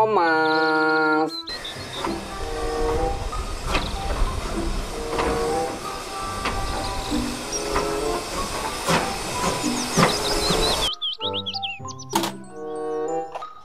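Toy Thomas steam train giving a long loud hissing chuff of steam with clanks and thunks throughout, bracketed by short electronic jingle tones at the start and end.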